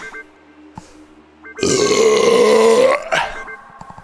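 A long, loud burp right after shotgunning a can of seltzer, one continuous rumbling belch of about a second and a half with a slowly rising pitch, following faint electronic game tones and trailing off into quiet.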